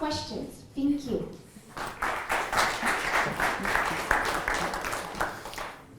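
Audience applause for speakers at a fission applications session of a science event, rising after a brief spoken phrase and continuing steadily for several seconds.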